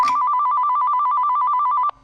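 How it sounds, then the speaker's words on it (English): A telephone rings with a rapid, continuous electronic trill lasting nearly two seconds, loud and close, then cuts off abruptly. "And then out of nowhere, a phone call"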